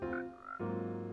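Frog croaking in Minecraft 1.19, a close, loud buzzy croak that changes pitch midway and holds steady, heard alone.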